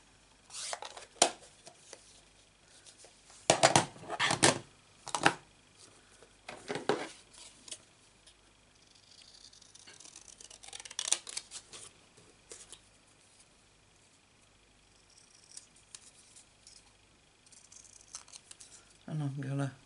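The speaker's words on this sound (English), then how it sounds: "And we'll cut that out." Scissors snipping out a paper card piece for a Stampin' Up Timeless Tulips card, a few short crisp bursts of cutting spread across quiet stretches, close and fairly soft, with a voice talking at times.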